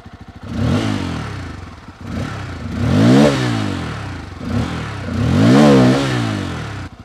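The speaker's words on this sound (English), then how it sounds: "The new Pulsar 250 upgrade sounds like this." A Bajaj Pulsar 250 motorcycle engine revs up three times in a row, each rise swelling loud and close then dropping back, with no talking.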